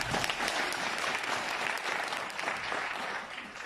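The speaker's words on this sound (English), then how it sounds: "let's clap hands for those that have come for the first time" An auditorium audience at a Crowd1 presentation in South Africa claps for first-time attendees, a thick, continuous wash of many hands, steady and fairly near, easing slightly toward the close.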